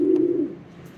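A pigeon gives a single deep, throaty coo up close, strong at first and then trailing off within about a second, with nothing else around it.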